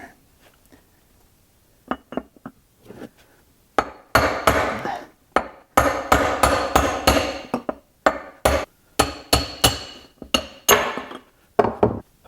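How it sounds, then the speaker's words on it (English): A hammer strikes a big steel chisel to drive out an old, greasy bushing from a mower during a bearing replacement, a few tentative taps and then a steady run of sharp, ringing metallic blows, loud and close. "Found a big chisel that fit down in there."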